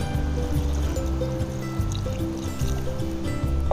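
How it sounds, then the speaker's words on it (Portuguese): Water is poured into a pot of stewing meat, a steady trickling splash running throughout, close and fairly loud, with no talk. "Nesta fase vamos acrescentar então a água."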